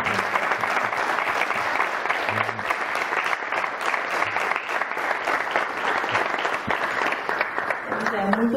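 A round of applause from the audience at a startup community event in Maputo, steady and dense clapping filling the whole stretch at a constant level, with faint voices murmuring underneath.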